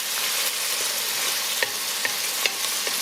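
Onion and celery sauté in a pan for a vegan lentil soup, a loud continuous close sizzle broken by a few sharp clicks of a spoon stirring them.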